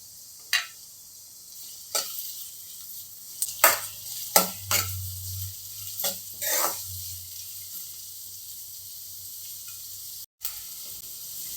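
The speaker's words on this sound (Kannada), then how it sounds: "ಈಗ ಈರುಳ್ಳಿ ಒಂದು ಸ್ವಲ್ಪ ಚೆನ್ನಾಗಿ ಫ್ರೈ ಆಗಲಿ" Two finely chopped medium onions frying in about four tablespoons of hot oil, with a steady soft sizzle and several sharp clicks and scrapes of a spoon stirring in the pan, no voices.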